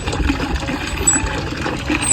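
Strong water gushes from a well in a loud, steady rush that stays close and continuous for a couple of seconds, with no voices.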